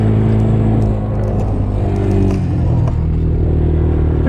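Four-wheel-drive trucks run on sand dunes in Saudi Arabia. A close, loud engine rumble continues throughout, with revving surges and rattling clatter on top.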